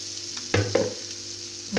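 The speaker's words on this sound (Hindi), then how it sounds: "अब इसमें आलू डाल लूँगी जो मैंने मैश किए थे।" Mashed potatoes are stirred into a sizzling samosa filling in a pan, with a steady close frying hiss and a couple of soft thumps and scrapes from the stirring.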